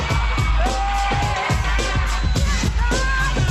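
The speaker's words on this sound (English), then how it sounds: "you can hear the moment when our robot starts moving in this match because the crowd goes like wild" A crowd at a robotics competition match cheers and whoops loudly in rapid, overlapping bursts of shouting, a dense and continuous roar of excited voices.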